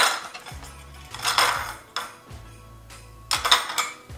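A pile of dirty dishes in a home kitchen is shifted and stacked, giving several close, sharp clatters of plates and cutlery with short pauses between them.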